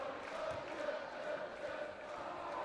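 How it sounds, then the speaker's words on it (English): A beach volleyball crowd at an Italy vs Austria Nations Cup match gives a steady, distant roar of cheering and chatter that neither swells nor fades. "You can hear the crowd."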